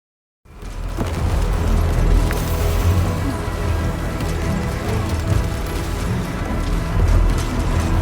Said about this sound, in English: Now listen to how it sounds with the game audio on, but no mixing, just raw files.